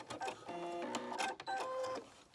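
A sewing machine backstitches across a fabric coin pouch with a continuous zipper, its motor whirring in a close, steady run that breaks briefly midway, then resumes and stops.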